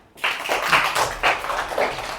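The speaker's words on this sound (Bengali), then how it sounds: "এর জন্য ওকে একটা হাততালি দাও।" A classroom of children gives a short burst of clapping for a student during a maths lesson, a few uneven waves of hand claps rising and falling over about two seconds.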